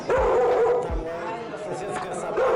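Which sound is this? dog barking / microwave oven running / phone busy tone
dog barking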